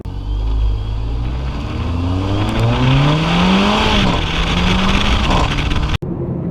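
Mercedes GLA 45 AMG turbocharged engine accelerating hard through the revs, a loud rising engine note climbing steadily before a brief gearshift break, then pulling again.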